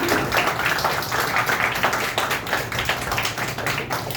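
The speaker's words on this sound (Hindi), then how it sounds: "अपने टीचर्स के लिए एक बार जोरदार तालियां बजाइए।" School students clap together for their teachers in dense, steady applause that stays loud and even for about four seconds.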